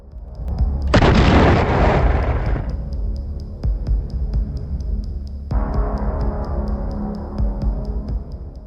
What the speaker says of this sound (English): Explosions ripped through the convoy, destroying several armored vehicles in seconds